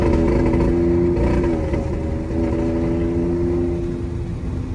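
Ford EcoBoost engine under boost with a hesitation misfire, a steady loud engine drone with wavering pitch and a brief stumble partway through, heard from inside the vehicle with wind noise.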